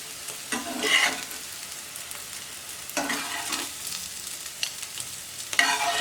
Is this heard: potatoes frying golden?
yes